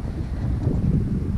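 A headwind blows steadily across the microphone as a runner climbs a hill in the Cognac marathon, a low, continuous rumble with no talk.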